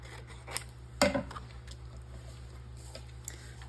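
Scissors snip a tag off a paper craft piece with one sharp, close cut, set between a couple of faint ticks and rustles over a steady low background hum.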